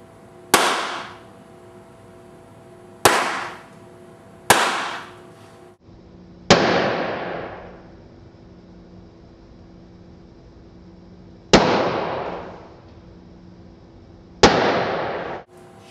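Sharp loud pops from a laser bursting a dark follicle-like object inside a transparent balloon: six separate bangs spread over about sixteen seconds, each with a brief decaying tail, no speech.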